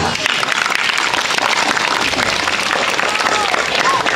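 Dense applause from an audience at a Balinese village temple ceremony in Penglipuran, a steady wash of clapping filling the whole clip with murmured voices mixed in.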